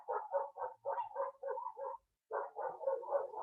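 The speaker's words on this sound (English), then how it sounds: "This is my dog." A dog barks in quick, regular runs of yaps, two bursts split by a short pause, fairly close but not loud.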